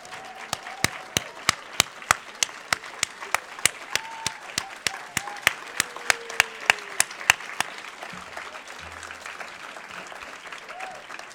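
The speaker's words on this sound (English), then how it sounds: "would you please stand up so that we may give you a round of applause?" Applause for teachers at a Boston EdTalks evening event: a crowd claps in a steady wash while one or two nearby pairs of hands strike sharp, regular beats, with faint murmuring voices underneath.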